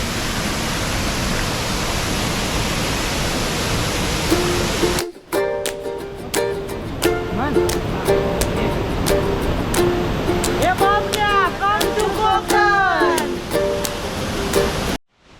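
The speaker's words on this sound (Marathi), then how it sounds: "तुम्ही पाहू शकता हा धबधबा." A loud, constant roar of rushing water from a waterfall at Siddhagad fort in the Konkan fills the scene, with a voice speaking over it in the second half.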